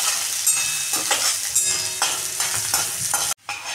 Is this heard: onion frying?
yes